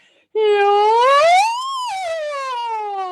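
A single voice imitates a siren as a vocal warm-up exercise, sliding up in pitch then gliding back down in one sustained wail, loud and close with no other sound.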